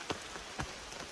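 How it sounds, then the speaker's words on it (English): Rain falls steadily on a woodland trail. It makes a soft, close wash of hiss with a few sharper drips landing on nearby surfaces. "we're just going to keep walking in the rain until it stops for long enough"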